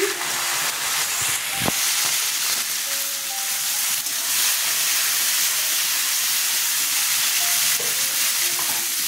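Chickpeas hitting hot oil with whole-spice tempering in a pan for a vegetarian chhakka, giving a dense, steady sizzle and hiss with a few stirring clinks, loud and close.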